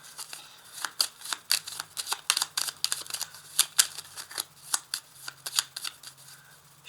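Tarot cards are shuffled by hand in a series of crisp, close riffling flicks and slaps, irregular in rhythm, with no voice over them.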